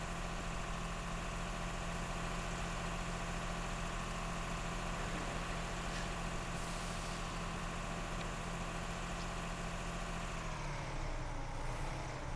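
Volvo bus engine idling in Euro Truck Simulator 2, a steady low droning hum that runs unbroken and loud, then shifts slightly near the end.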